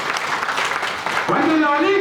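Loud, dense applause from a crowd at a Telangana State Road Transport Corporation SC/ST employees' state conference, filling the first part before it gives way to voices speaking or chanting over fading noise.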